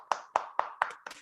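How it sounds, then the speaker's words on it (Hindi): At a women's business forum, hands clap to welcome a speaker: five crisp, evenly spaced claps, close and distinct rather than a full crowd roar. "प्लीज बहुत जोरदार तालियों के साथ स्वागत कीजिए"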